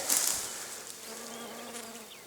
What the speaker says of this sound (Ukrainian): І бджола гудить.